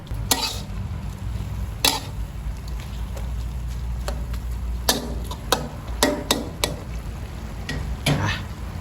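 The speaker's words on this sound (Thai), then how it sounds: "หมูลงไปผัดให้สุกครับ เติมน้ำนิดหน่อยครับหมูจะได้สุกเร็ว" Pork pieces stir-fried in a pan with a splash of water, a low steady sizzle broken by scattered sharp clacks of the spatula against the pan, close and moderately loud, no talking.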